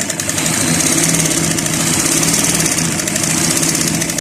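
A sewing machine stitches the side seam of a cut-style trouser, its motor whirring in a steady, close, continuous hum with a fine rapid mechanical pulse throughout.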